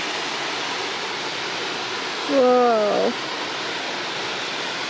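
A small waterfall runs in a rocky gorge on the Gibb River Road in Australia, giving a steady broadband rush throughout, with a brief exclaimed voice over it in the middle.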